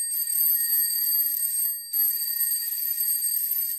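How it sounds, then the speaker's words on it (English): A bicycle bell used as a telephone sound effect for silent films, ringing as a bright, continuous metallic trill with a brief pause partway through, close and alone. "But this is actually a bicycle bell."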